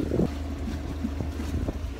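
Steady wind noise and water rushing past a sailboat hull at sea, heading out in a good breeze, with a low continuous rumble and occasional splashes throughout, no talking.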